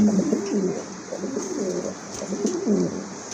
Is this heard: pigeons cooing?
yes